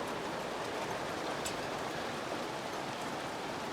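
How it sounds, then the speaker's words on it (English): Hailstones falling steadily outdoors in English weather, a dense, continuous hiss and patter like heavy rain with one brief sharper tick midway, no voices. "It's not rain, it's hailstone."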